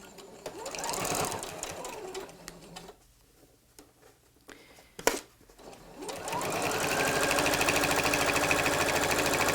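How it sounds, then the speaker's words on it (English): A sewing machine stitching a rag quilt runs rapidly, stops briefly with a faint clack, then starts again and hums steadily at a fast, even pace. "let's take this to the sewing machine"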